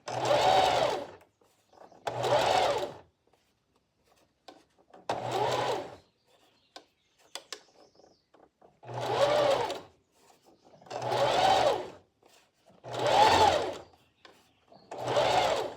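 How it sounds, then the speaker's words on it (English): Domestic sewing machine stitching over a small finger-made fabric ruffle while sewing a sitter dress, running in seven close, loud bursts of a second or so each, separated by quiet pauses. "you're just sewing over that little ruffle that you're just making with your fingers"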